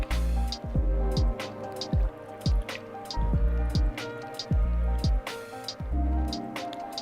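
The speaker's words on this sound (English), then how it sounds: "now I can pour liquid ethanol straight from the bottle" Liquid ethanol glugs from a bottle into a Planika ethanol fireplace burner, a run of close, uneven gurgling pulses and soft splashes that pause briefly partway through.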